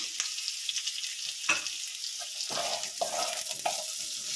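Capsicum and onion stir-fry with ginger and garlic for chilli chicken, a loud steady sizzle close by, broken by several scraping stirs of the spatula.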